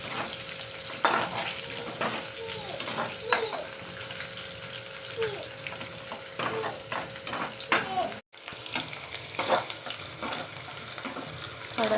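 Finely chopped onion sautés in hot oil while soya chunks are prepared, giving a steady close sizzle with repeated scraping stirs and a brief gap near the end before the frying resumes.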